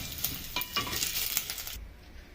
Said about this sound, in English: You continue stir, just continue so that it can't stick on your sufuria